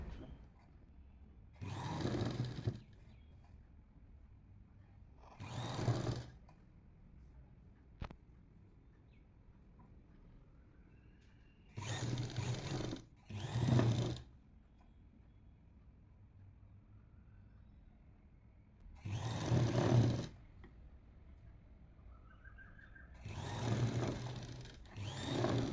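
A sewing machine stitches frills onto a resized top at a half-inch seam. It runs in several short bursts of close, buzzing mechanical stitching separated by quiet pauses.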